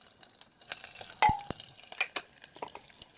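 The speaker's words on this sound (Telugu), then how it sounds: "ఇందులో ఆవాలు, జీలకర్ర, ఎండుమిర్చి వేసుకుందాం." Mustard seeds, cumin and dried red chillies hit hot oil for tempering, producing close, scattered crackles and sharp pops over a faint sizzle, with one brief metallic clink near the start.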